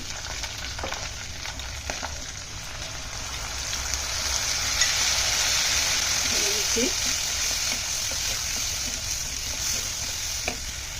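Spices frying in a pan of browned ingredients during biryani preparation give a steady close sizzle that swells louder midway, with faint stirring scrapes and occasional clinks throughout.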